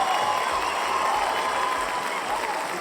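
Audience applause with light cheering, a steady wash of clapping from a crowd, fairly loud and continuous, with a voice faintly underneath.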